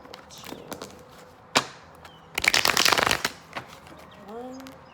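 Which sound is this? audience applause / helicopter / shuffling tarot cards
shuffling tarot cards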